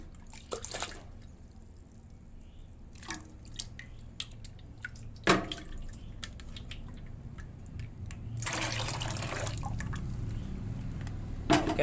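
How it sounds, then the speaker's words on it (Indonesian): Water runs and splashes as a blender jar is rinsed out in a kitchen, with scattered drips and clinks, a brief gush near the start and a steadier stream in the last few seconds, no talking. "Sambil kita gunakan membersihkan tempat blenderan yang tadi airnya, biar nggak ada yang sisa gitu ya teman-teman."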